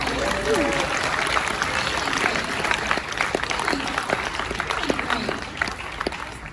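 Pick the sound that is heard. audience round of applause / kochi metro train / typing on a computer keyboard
audience round of applause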